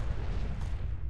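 A rumbling explosion in the video game Fallout 4, with heavy low boom and crackle filling the whole brief moment at steady loudness.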